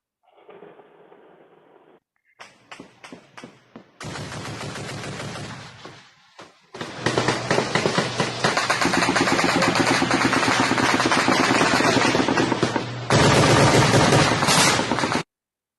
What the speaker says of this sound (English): It sounds as if when Vladimir Putin sending a gunshot over Ukraine